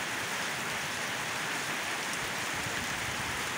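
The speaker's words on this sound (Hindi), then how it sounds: "और ये बारिश देखें" Heavy rain pours down in Murree in a dense, steady roar that stays unbroken throughout.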